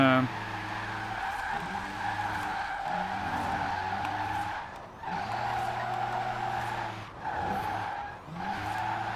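Tires screech and squeal continuously as a Rimac C Two electric hypercar drifts in the Forza Horizon 4 racing game, long sliding squeals with brief breaks between slides and no engine noise.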